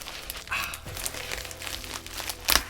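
iPad packaging ripped open by hand, with close crinkling, tearing and crunching of paper and plastic in short irregular bursts.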